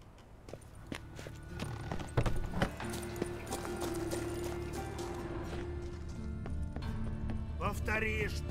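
Video game horse hooves clip-clop at a walking pace against a busy background, with a horse's whinny near the end, all fairly faint.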